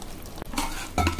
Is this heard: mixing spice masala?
yes